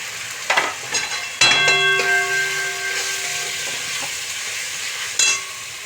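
Onion paste and ginger hit a hot pan with a sudden loud sizzle, then keep frying with a steady hiss while a utensil scrapes and stirs in a few clattering strokes; a sharper clink comes near the end.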